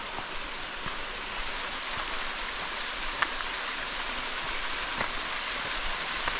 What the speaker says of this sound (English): that's the silver waterfalls. It's hidden and it's small, very spectacular.